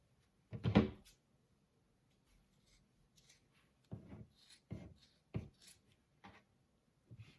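Scissors cutting both ends off a sock, heard as a few separate snips and rustles of fabric with quiet pauses between them, close and fairly soft.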